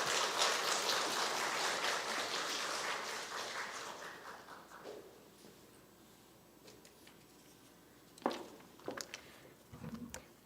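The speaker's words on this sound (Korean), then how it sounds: "박수로 환영해 주시면 고맙겠습니다." A church congregation at a Sunday service applauds in welcome, a fairly faint patter of clapping that tapers away over several seconds, followed by a few scattered soft knocks and rustles in a quiet room.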